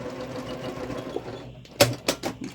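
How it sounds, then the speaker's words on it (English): A sewing machine stitching across zipper teeth on a mini-charm precut zipper bag, heard as a steady close hum followed by a few sharp, loud bursts as the needle crosses the teeth. "I'm going to stitch across my zipper here so I can trim some of this off without losing my zipper pull."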